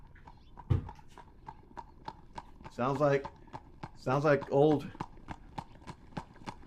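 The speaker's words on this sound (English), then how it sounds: "coming up in his horse" A horse approaching on its hooves, a steady run of distinct clip-clops at moderate distance with brief conversation over the top.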